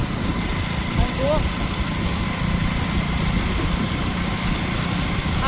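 A motorbike carries a rider and passenger through Ahmedabad, its steady engine drone blended with constant wind rush, close and unbroken throughout.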